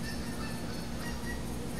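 Geese honking during a goose hunt, a dense, distant flock calling continuously as a steady wash of overlapping honks.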